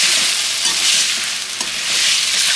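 Pulao ingredients frying in ghee and oil while being stirred in a pot, giving a loud, steady, close-up sizzle that holds throughout with slight swells as the mixture is moved.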